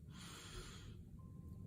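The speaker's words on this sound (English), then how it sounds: "Big breath in like you're sniffing flowers." A slow, deep breath drawn in through the nose, a soft airy sniff lasting about a second and heard up close and quiet.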